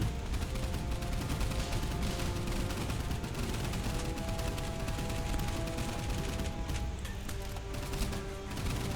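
Continuous gunfire from boats during a naval battle in the video game Boat Crew, a dense, steady barrage of shots and impacts layered over game sound with no pauses.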